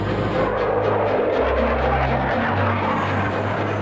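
A pair of F-16 fighter jets scrambled to intercept an airliner fly over with a loud, continuous engine roar and rumble that holds steady throughout.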